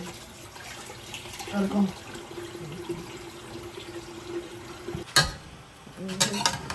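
A kitchen tap runs steadily into a sink while food is washed for a Caribbean soup, a moderate background gush with some splashing and clatter, and a voice briefly speaks over it.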